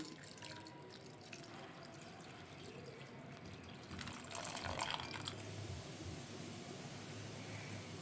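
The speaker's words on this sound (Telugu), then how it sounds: "నేనైతే మాత్రం పెద్దగా అసలు నీళ్ళు పోస్తున్నా" Water is poured into an iron pan over rusty iron nails, giving a steady soft trickle and splashing that swells slightly midway, heard alone at close range.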